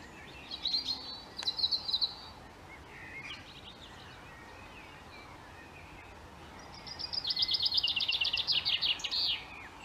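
Wild bird in Ireland singing a bright descending trilled phrase twice, a short burst early and a longer run near the end, with faint chirps of other birds under a soft outdoor hiss.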